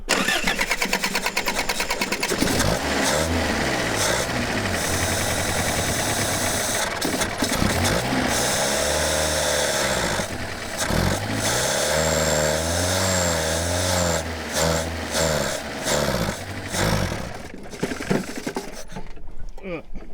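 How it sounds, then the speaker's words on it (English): A neglected 1977 Toyota Celica engine cranks and catches, then runs roughly and revs unevenly as the stuck car strains to move, loud and close, with people talking over it. "the engine like kind of running, it at least tries to move"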